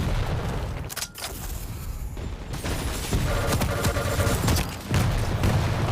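Rocket launcher fire and explosions during a 2v2 Quake match at a Dreamhack Tours tournament, loud dense booms and blasts filling the whole stretch with brief dips, no clear speech.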